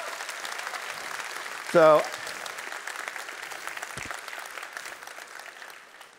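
An audience applauds through a 2022 iGEM keynote with continuous, fairly distant clapping. A short spoken word cuts in near the start.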